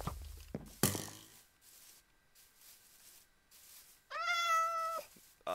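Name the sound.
cat meowing in the video game Minecraft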